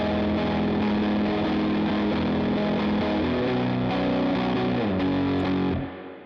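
Distorted electric guitar played on the neck pickup with no reverb, a dense sustained chordal filler for a Midwest emo song, loud and steady before fading out in the final half second.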